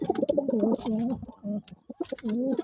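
Several pigeons coo in low, throaty, rolling phrases, close by, with brief pauses between bursts and some faint chirps mixed in.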